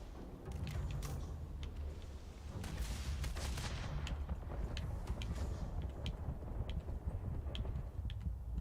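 A shootout in Starfield brings rapid bursts of gunfire that crackle and pop in quick, uneven volleys, some distant and some nearer, over steady low background rumble. The shots stay faint throughout.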